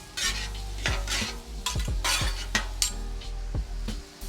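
Butter and garlic sizzle on a hot hibachi griddle, with steady frying hiss under repeated metallic spatula scrapes and clinks, close and loud, with no talking.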